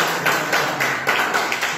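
A church congregation claps hands in unison at a Hindi worship service, a series of loud, evenly spaced claps in a quick rhythm, close and full-sounding in the hall.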